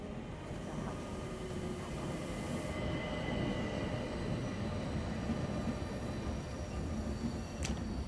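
A passenger train sits at a station platform before boarding, giving a steady rumble of rail cars with faint wheel squeals and a brief high screech near the end, with no talking.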